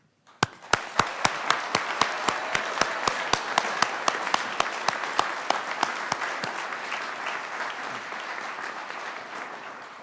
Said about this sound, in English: will the audience join me in a round of applause to symbolize?